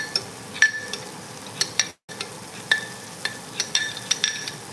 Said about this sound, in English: we're going to put these onions on just a little bit and get the last bit of ghee